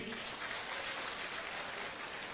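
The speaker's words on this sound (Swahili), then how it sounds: "Haya, tuwapigieni makofi." A crowd at an outdoor political rally claps for the ward representatives and aspirants, a dense, steady patter of applause heard from a distance.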